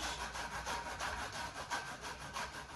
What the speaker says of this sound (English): So I'm gonna grater the orange.